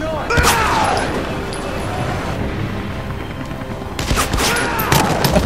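Gunfire in Beyond Two Souls: a volley of sharp shots at the start and another cluster near the end, over a background of game noise.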